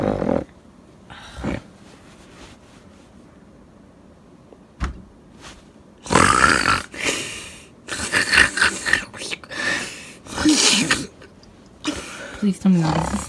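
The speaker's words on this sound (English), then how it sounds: "Please tell me why this is snoring." Loud snoring from a creature in a spooky-themed scene, heavy rasping growl-like snores in uneven bursts, with voices speaking between them.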